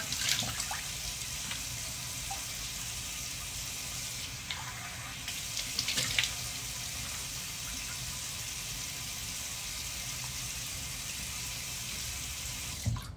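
A bathroom tap runs steadily into a sink during face washing, a constant close rush of water with faint splashes and small clatters, no talking.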